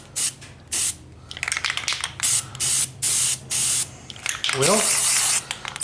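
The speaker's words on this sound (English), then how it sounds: "We're going to hit it with some just this cheap Rust-Oleum bed liner." Aerosol can of cheap Rust-Oleum truck bed liner sprayed onto a Cummins pickup, several close hissing bursts of a second or so each with short gaps, a brief word spoken near the end.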